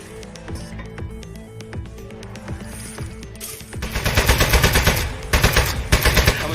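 Gunfire in the video game Aperture Desk Job, rapid clicks building into dense automatic bursts that grow louder and busier in the second half.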